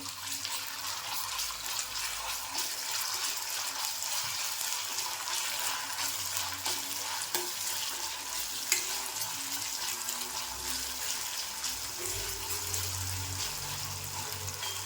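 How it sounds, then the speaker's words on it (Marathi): Ginger garlic paste and curry leaves sautéing in a pan for Maharashtrian dhaba-style shev bhaji, a steady low sizzle and stir running throughout at moderate level, no talking. "आता आलं लसूण पेस्ट 1 चमचा आणि हा कढीपत्ता, हे सुद्धा आपल्याला परतून घ्यायचं आहे."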